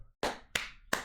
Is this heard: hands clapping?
yes